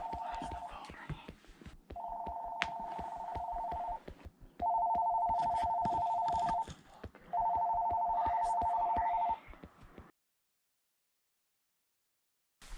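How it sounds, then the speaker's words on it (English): A telephone rings inside an abandoned house in a video game, four long warbling electronic rings separated by pauses, with faint background clicks, then silence. "Why is the phone ringing?"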